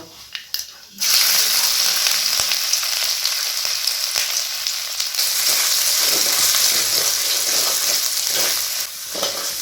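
Chopped ginger sizzles steadily in hot oil in a pan over medium heat, a loud continuous frying hiss that starts abruptly after a brief quiet moment and holds throughout, for a vegetarian ridge gourd, potato and poppy seed dish.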